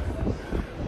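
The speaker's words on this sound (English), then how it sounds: "Super windy up here." Strong wind buffets the microphone at the top of Cologne Cathedral, a steady low roar with gusting swells across the short moment, loud and close with no clear talk.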